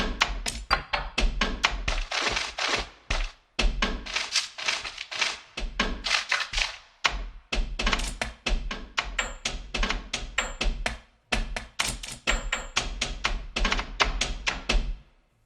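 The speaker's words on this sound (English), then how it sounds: "Metal ticks and paper scrapes." Metallic ticks and papery scrapes from a found-sound sample library, played as dense, busy clusters of clicks and scratches that continue almost without a break and pause only briefly.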